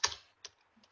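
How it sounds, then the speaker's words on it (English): Keystrokes on a computer keyboard click out in a short burst: one sharp tap, then a few lighter, quicker taps, close and fairly quiet. "I am typing Bangalore"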